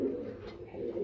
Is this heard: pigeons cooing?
yes